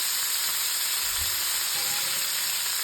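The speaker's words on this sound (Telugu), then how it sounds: "మంచిగా వేయించుకోవాలి. వేయించుకుంటే బాగుంటుంది." Prawns frying in a pan for biryani make a loud, continuous sizzling hiss, close and steady, with no talking.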